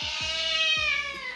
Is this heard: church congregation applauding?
no